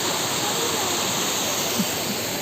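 Ezharakund waterfall, a steady, dense rush of falling water filling the scene evenly without pause.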